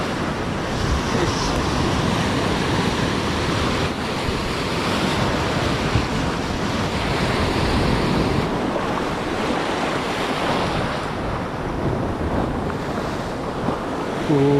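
Big ocean waves crash and roll steadily onto an island shore, a dense, continuous roar with heavy wind buffeting the microphone throughout, no voices heard.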